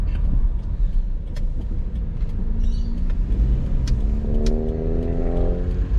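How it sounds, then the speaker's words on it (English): A 2015 Subaru Forester with CV joint and brake trouble drones loudly from inside the cabin while turning, a heavy low exhaust and road rumble with a rising engine whine and scattered clicks. "Bloody noisy on the car exhaust every time I do a turn."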